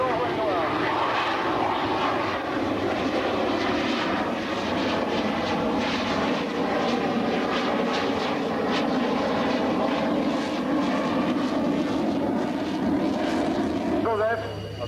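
An F-16 fighter jet lands at a 1993 air show at Cambrai air base, a continuous broad roar of jet engine noise under a commentator talking over a public address system.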